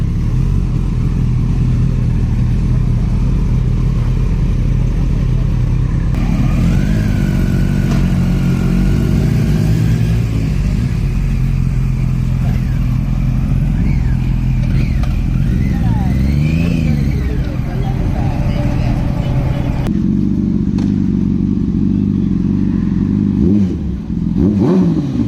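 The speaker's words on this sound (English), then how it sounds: "So this is FZ1. So he installed acrobatic exhaust." A Yamaha FZ1 motorcycle fitted with an aftermarket Akrapovic exhaust idles loudly and revs up and down in rising and falling sweeps, close to the microphone, with the steady engine drone continuing throughout.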